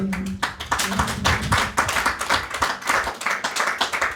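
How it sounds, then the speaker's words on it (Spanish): A church congregation claps for God in worship, a lively run of distinct, close handclaps in an uneven, energetic rhythm, with a short tonal sound near the very start. "Dale un aplauso al Señor."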